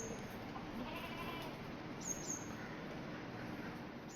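A young male goat bleats faintly in a short, wavering call heard against steady background hiss on a farm offered for sale, with no talking.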